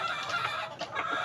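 A fighting rooster clucks in a few short, soft bursts, close by and alone with no talk.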